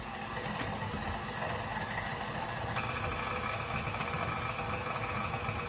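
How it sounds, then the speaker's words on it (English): An electric mixer motor hums continuously while beating thick red velvet cake batter, a steady, even drone with no pauses throughout. "you'll feel the motor start to work a little bit more"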